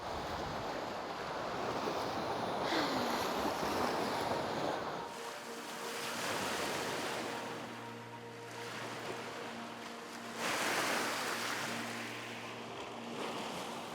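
Water lapping and washing on a lake, heard as a steady broadband wash with wind buffeting the microphone and a faint low hum. It runs continuously for the whole stretch, with no voices.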